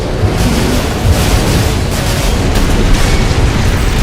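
A mech's missile launches and detonates during an Armored Core 6 online arena fight, a loud, continuous rumbling roar with dense booming bursts throughout and no voices.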